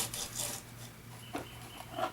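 Minwax paste finishing wax is rubbed onto a turned Banyan wood vessel with Mahogany inlay that has a sanding-sealer coat, giving soft, faint rasping strokes in a quiet room.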